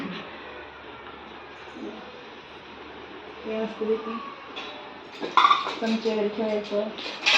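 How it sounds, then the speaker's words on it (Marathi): Pots, pans and utensils clinking in a home kitchen, with scattered metallic clinks and clatters growing busier toward the end while people talk throughout. "हे सगळे आमच्या सोनूच्या लग्नातले भांडे वगैरे दिलेले आहेत"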